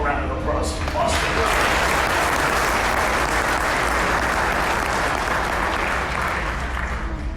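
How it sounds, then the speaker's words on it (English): Audience at a Van's Aircraft presentation at EAA AirVenture applauding, a dense, loud, steady wash of clapping that holds throughout, with faint voices mixed in at the start. "so one more round of applause for Boston"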